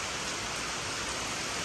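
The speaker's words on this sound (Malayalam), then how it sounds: "നല്ല അടിപൊളി മഴ കേട്ടോ" Heavy evening rain pours down as a dense, steady roar of water, loud and close, with no voices over it.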